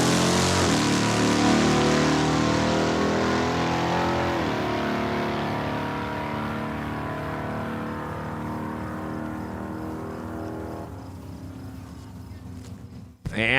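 Race cars launching side by side in a head-on drag race at Saskatchewan International Raceway, engines roaring loud and close, then pitch sliding downward as they pull away, with a sharp burst at the end.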